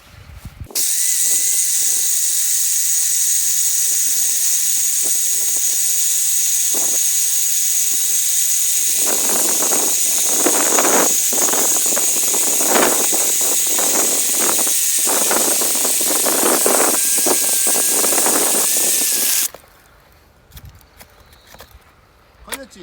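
A core drill bores through a wall to make a hole for an air conditioner, a loud, close, continuous high-pitched whine and grinding for about eighteen seconds, with short voices before and after.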